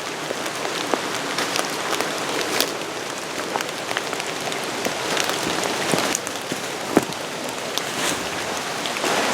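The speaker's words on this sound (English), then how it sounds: "Rain's really picking up now." Heavy rain falls on a forest trail in a loud, dense, continuous hiss, with sharper close drops spattering throughout and no voices.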